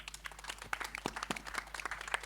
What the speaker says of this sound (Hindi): ladies and gentleman, Javed Akhtar साहब, एक बार जोरदार तालियां